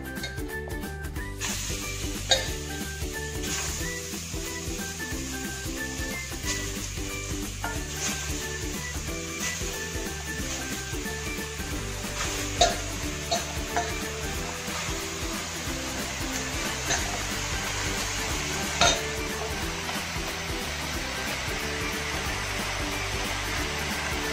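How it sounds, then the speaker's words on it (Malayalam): Beef pieces sizzle and are stirred in a pressure cooker while cooking Kottayam-style beef roast, a steady hissing fry with scraping stir strokes and a few sharp clinks throughout. "അപ്പൊ ഞാൻ ഇവിടെ ഒരു കുക്കർ എടുത്ത് വെച്ചിട്ടുണ്ട്. നമ്മുടെ ഈ ബീഫ് നമുക്ക് ഇതിലേക്ക് ആഡ് ചെയ്ത് കൊടുക്കാം."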